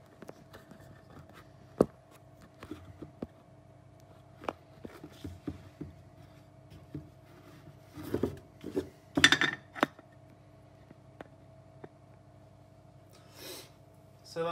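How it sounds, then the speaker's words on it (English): Cauliflower is spread out and broken up on a baking sheet, with scattered clicks and light scrapes on the metal tray, soft rustling, and a busier cluster of handling noises toward the end, all close by. "spread out the cauliflower on the baking sheet and maybe break up a bit smaller"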